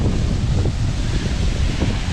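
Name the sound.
Shoshone waterfall, Twin Falls Idaho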